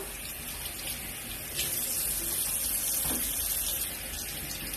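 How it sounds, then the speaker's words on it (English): Running tap water pours steadily as bok choy is rinsed in a kitchen sink, a continuous close splashing stream that gets a little louder partway through, with no talking. "So I'm just going to rinse this off here."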